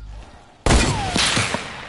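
Gunfire in the Fortnite video game starts with a sudden loud blast, then rolls on as a dense, noisy crackle of shots for over a second, up close and with no talk over it.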